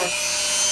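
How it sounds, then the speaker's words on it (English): A rotary tool with a sanding bit grinds steadily against an EVA foam War Machine cosplay helmet, a continuous close, bright whirring rasp with no pauses across the short burst. "I want to use the rotary tool, or just a sanding bit on the end"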